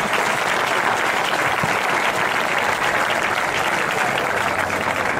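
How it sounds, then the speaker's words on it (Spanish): Dense applause from an audience at a futsal club's season team presentation in Segorbe, honoring the club president, a steady unbroken wash of clapping for about five seconds. "pues un aplauso para nuestro presi"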